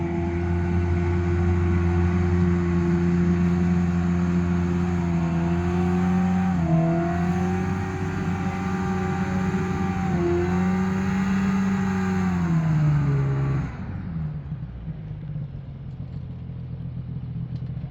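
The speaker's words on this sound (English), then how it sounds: "you will see a hovercraft delivering some more fuel" A hovercraft powered by a snowmobile engine runs on a river, a steady loud droning engine hum with rising and falling pitch before it drops off sharply near the end, no talking.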